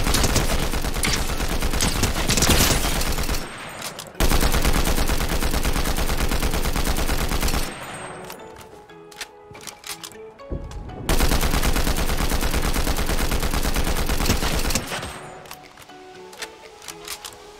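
Rapid automatic gunfire in the video game Fortnite Zero Builds, loud dense bursts in several long stretches separated by brief quieter gaps with scattered lighter shots.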